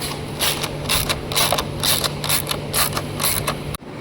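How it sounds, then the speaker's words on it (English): Rapid ratcheting clicks come in quick bursts close by while bolts are tightened on Royal Enfield Himalayan body panels, with a steady hum underneath and the clicking stopping abruptly near the end. "pull the panels and then tighten it"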